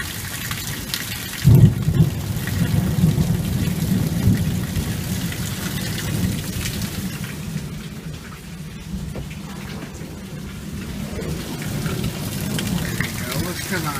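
Heavy rain pours steadily with a deep rumble of thunder throughout, a loud burst near the start, the downpour close and continuous.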